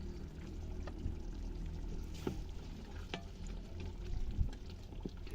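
Chicken korma with kasuri methi, garam masala, coriander powder and kewra essence is stirred in a pot, giving soft scraping and gentle sizzling with a few light clinks, quiet and close, with no talking.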